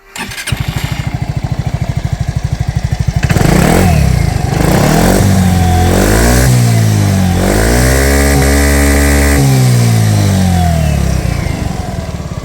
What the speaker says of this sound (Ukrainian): Двигун працює без нарікань.